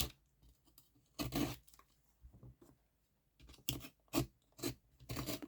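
Scissors cut off a journal page in a quiet room, with several short crisp snipping and rustling bursts separated by near silence.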